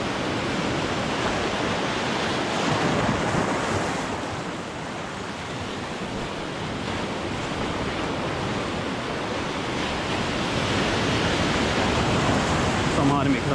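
Waves break steadily on a beach in Trinidad, a broad continuous wash of surf that swells and eases slightly, close and loud throughout.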